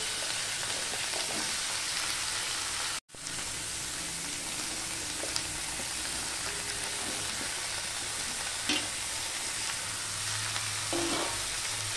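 Vegetables and potatoes frying in a pan after a black cumin tempering, a constant close sizzle with a brief cut near the start and soft stirring clinks, no voices.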